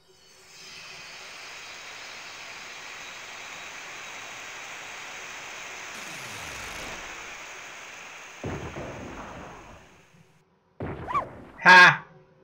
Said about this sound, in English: Struck him with lightning.